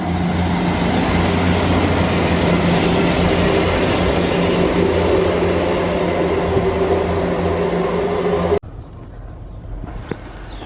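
A train pulls out of a Devon station bound for Exeter, a loud, steady rumbling roar with an engine drone that runs close by and then cuts off abruptly, leaving quieter background sound.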